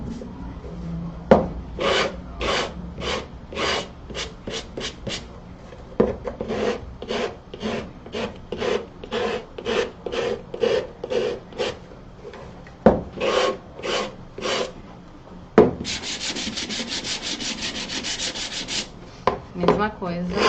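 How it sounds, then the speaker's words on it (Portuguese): A wooden box is hand-sanded to take off excess material: steady, rapid rasping strokes in bursts, close and fairly loud, with short pauses between runs and a brighter, harsher stretch near the end. "E agora, ó, lixar. Lixar pra gente tirar aí todo o excesso."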